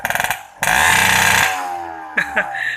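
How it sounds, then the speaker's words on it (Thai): A 1990s Yamaha RC80 two-stroke motorcycle engine revved hard against the limiter, with sharp crackling bursts and a loud buzzing surge that falls away, then short blips, close by. "อ่ะขอฟังเสียงสัก เบิ้ลตัด นะครับเบิ้ลตัด"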